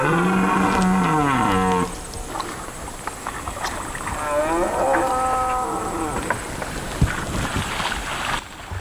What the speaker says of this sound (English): you wanna hear something amazing, it's when them stags roar